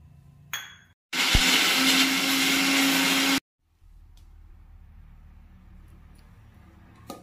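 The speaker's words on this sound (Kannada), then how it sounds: "ಈಗ ನೋಡಿ ಇದನ್ನು ಗ್ರೈಂಡ್ ಮಾಡ್ತಾ ಇದ್ದಾರೆ." A mixer grinder whirs loudly for about two seconds as it grinds cumin masala with a little water, then cuts off abruptly, with a few clinks before and after.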